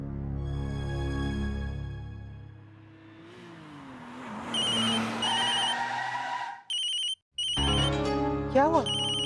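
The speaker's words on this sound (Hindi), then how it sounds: "माँ, फोन आया।" A telephone rings in a household during a family drama scene, with electronic ringtone tones arriving in short bursts over background music and movement, clear and close, and voices speaking around it.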